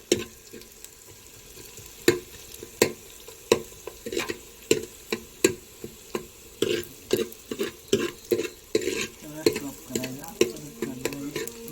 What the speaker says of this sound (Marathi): कांदा असा तांबूस होईपर्यंत हलवायचा आहे